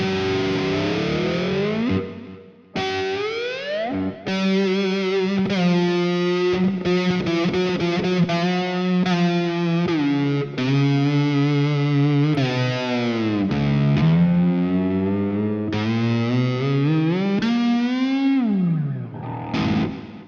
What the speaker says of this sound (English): the reason why you would ever get a fretless is to get a different sound, so you'll hear it when I play the other basses, but you can slide